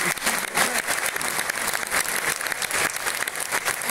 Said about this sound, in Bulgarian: Благодаря ви за вашите топли аплодисменти.